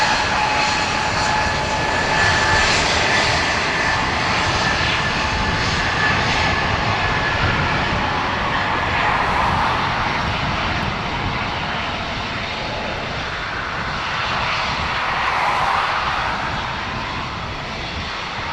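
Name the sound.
Lufthansa Airbus A321 jet engines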